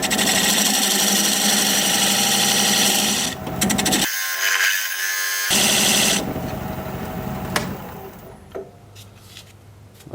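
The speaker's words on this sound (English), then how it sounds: "Now I'm going to use my dovetail tool to create the dovetail on the side of that recess." A wood lathe turns a bowl while a dovetail tool cuts into the side of its recess, giving a loud, continuous grinding scrape that briefly drops away midway before resuming less intensely.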